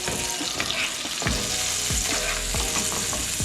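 Turkey burgers fry in leftover bacon fat with no added oil, giving a loud, continuous sizzle close by, punctuated by several sharp scrapes and knocks from a utensil in the pan.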